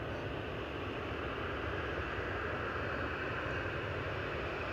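Steady broadband engine drone from a propeller airliner on approach to land at Manchester Airport, a continuous even rumble with no talk.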